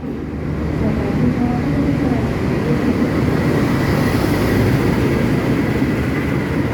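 Steady, loud rumble of a Kamandaka executive-class passenger train hauled by a CC206 locomotive, heard from inside the carriage as continuous low rolling noise with rail clatter throughout and no clear speech.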